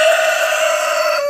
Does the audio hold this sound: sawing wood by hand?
no